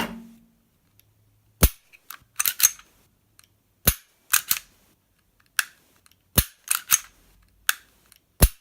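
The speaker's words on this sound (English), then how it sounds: "This is the Kahr CW9 trigger" A Kahr CW9 pistol is dry-fired again and again, each trigger pull ending in a sharp, close metallic click. Roughly a dozen clicks come at irregular intervals, some in quick pairs, with near silence between them.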